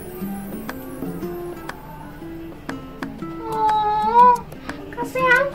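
A weak cat in a children's story meows with thin, rising cries several times toward the end, heard under a music-like backing, with one clearer drawn-out mew near the middle.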